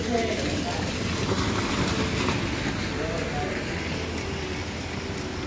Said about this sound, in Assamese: পুৰা বৰষুণ দি আছে।